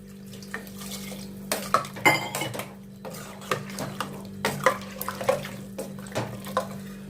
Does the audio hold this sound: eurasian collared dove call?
no